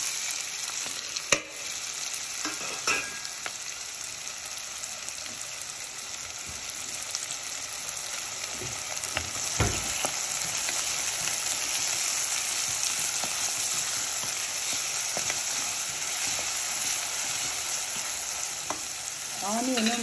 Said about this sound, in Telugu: పచ్చిమిరపకాయలు ఈ ఆయిల్ వేసేద్దాం.